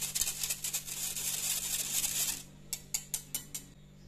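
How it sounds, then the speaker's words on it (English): Powdered sugar being whisked in a bowl to break up lumps: a steady, busy scratching and clinking of whisk wires for about two seconds, then a few separate light taps, close and fairly quiet, with no talk. "Use a whisk for those stubborn lumps"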